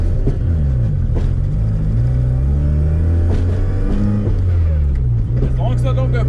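A Mazda FC3S rotary car engine idles and revs gently at low throttle, a loud close rumble with wavering pitch, while a person talks over it.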